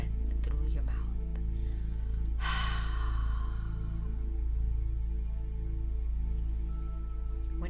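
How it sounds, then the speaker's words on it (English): A cleansing breath during a yoga practice, inhaled and then released through an open mouth as one clear, breathy exhale close to the microphone over a steady low hum. "Feel free to practice a few cleansing breaths as you inhale and open your mouth to release the breath through your mouth."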